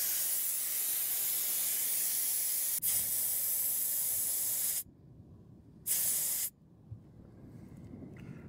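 Air hissing out of a tyre through a tyre deflator, a steady close, loud hiss that stops suddenly, briefly resumes, then cuts off as the deflator is removed.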